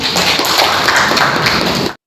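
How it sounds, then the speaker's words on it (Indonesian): A class of students claps hands in a steady, loud round of applause filling a classroom for about two seconds before cutting off abruptly. "Oh, bagus. Tepuk tangan."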